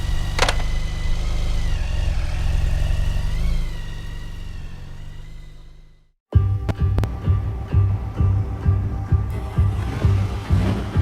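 A vehicle engine running on the road toward Oklahoma makes a steady low hum and throb, then cuts abruptly to a rougher, pulsing rumble, close and loud with no talking.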